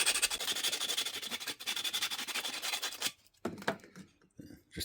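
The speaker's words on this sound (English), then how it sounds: "Then you want to take your sandpaper and sand those down." Sandpaper rubbed back and forth over the cut ends of copper wind chime tubes, a dense, steady scratchy rasp close up for about three seconds, then a few shorter, broken strokes with brief pauses.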